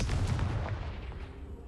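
A Confringo fire spell blasting in Hogwarts Legacy, a heavy booming burst that opens loud and rumbles away over under two seconds, with no talk.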